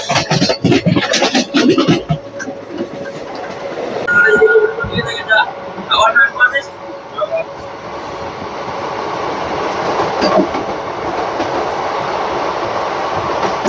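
A passenger train running from Howrah to Varanasi rolls into Dankuni station, its steady loud rumble and rattle filling the whole stretch, with sharper clatters early on and faint voices in the carriage.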